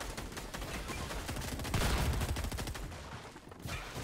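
Rapid bursts of gunfire from a Fortnite match in a Chapter 4 tournament, dense, loud and continuous, with overlapping shots rattling through the whole stretch.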